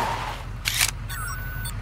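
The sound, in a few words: camera shutter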